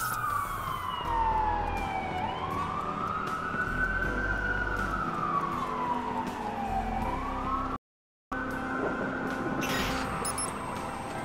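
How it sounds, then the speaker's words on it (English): Police sirens wail continuously in the Watch Dogs video game during a blackout, a loud rising and falling tone over steady traffic rumble, briefly cut out near the end. "That's a lot of sirens for a blackout."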